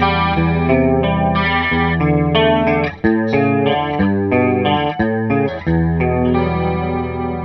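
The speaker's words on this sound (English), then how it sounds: "Beautiful chorus sound." A clean electric guitar through a chorus effect pedal in an 80s rock rig, playing a shimmering arpeggiated chord phrase with sustained, gently wavering notes.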